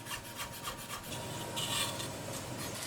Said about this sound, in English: Roughly chop 2 cloves of garlic.